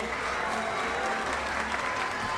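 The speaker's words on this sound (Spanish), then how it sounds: "A los niños voladores, también un fuerte aplauso." Crowd clapping for the child voladores at the children's Huipil Queen coronation in Cuetzalan, a dense, even patter of many hands sustained throughout at moderate volume over a faint low hum.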